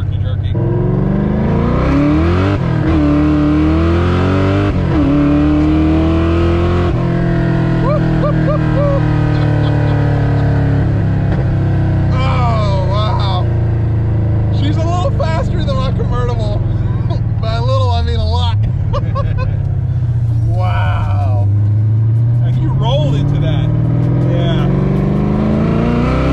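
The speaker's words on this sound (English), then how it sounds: "you're not gonna hear much because it's a loud car. So we're just gonna enjoy the ride" Supercharged Reef Blue 1990s Ford Mustang notch coupe with 30,000 miles, its engine droning loud and close from inside during a ride, pitch rising and falling as it revs and shifts, with brief voices heard over it.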